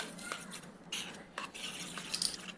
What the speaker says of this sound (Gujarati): હવે બધી વસ્તુને સારી રીતે મિક્સ કરી દઈએ.